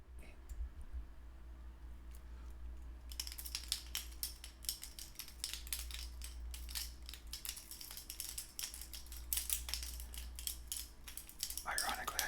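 Loose keys clacking and jingling close by, a quick irregular run of bright metallic clicks after a quiet start, rising to a busier burst near the end.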